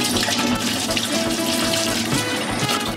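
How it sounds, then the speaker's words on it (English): Cold tap water runs steadily over the two brush rollers from a Dyson Cyclone V10 vacuum as they are rinsed, a continuous close splashing hiss at a sink with no talking. "rinse them under cold running water"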